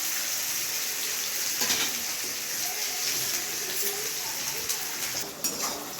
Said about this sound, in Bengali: পেঁয়াজটা এখন ভালোভাবে ভাজবো পেঁয়াজটাকে